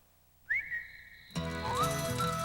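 A person whistles alone, starting with a quick rising note and a held tone. Soft music then comes in underneath as a second whistled phrase slides upward.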